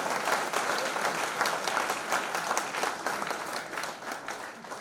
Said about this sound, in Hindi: एक बार माया के लिए जोरदार ताली